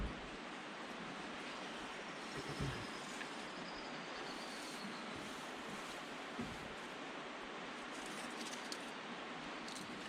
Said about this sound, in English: I can hear the water filtering in the background.